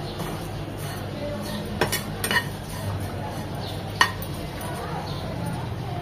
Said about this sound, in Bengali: চার থেকে 5 মিনিট একটু নেড়ে চেড়ে এভাবে ভালোভাবে ভেজে নিতে হবে।